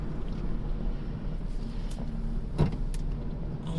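A line of cars stuck in traffic gives a steady low rumble of engines and road noise, constant and unbroken, with no talking.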